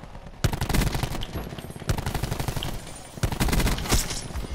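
Gunfire in a shooting video game: loud, close automatic bursts in three long rapid volleys, each a dense rattle of shots with brief pauses between.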